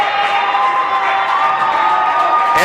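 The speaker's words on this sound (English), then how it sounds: "the Utah crowd that came here from Salt Lake showing its appreciation" An arena crowd at a Utah versus Montana Tech college hockey game cheers and whoops loudly and continuously after a diving glove save, a dense roar of many voices that holds steady throughout.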